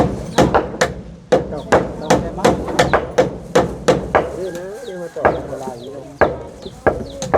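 Repeated hammer blows drive nails into wood on a house under construction, sharp close strikes in an uneven rhythm with short pauses, while a person talks and birds chirp in the background.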